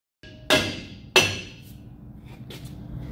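A rusted axle drum on a Jeep Wrangler takes two sharp, ringing metal hammer blows about half a second apart. Both are loud and close, and a faint clank and some shuffling follow them.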